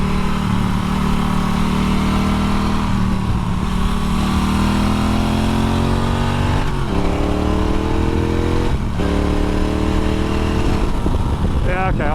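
A cheap retro motorbike engine drones loudly and close while riding, pitch climbing under acceleration and dropping at each gear change, with a person talking over the steady engine noise.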